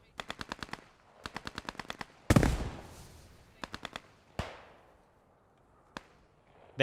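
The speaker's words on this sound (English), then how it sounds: "MP40s spraying him down" Rapid bursts of MP40 submachine gun fire in the Post Scriptum war game, short rattling volleys repeated several times with a louder blast and echoing tail in between, plus a few single sharp shots.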